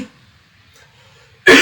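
A single sharp, loud cough bursts out near the end after a moment of near silence, close to the microphone.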